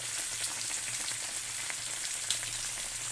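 Steady crackling sizzle of food frying in hot oil, a continuous dense hiss with occasional small pops, no voices.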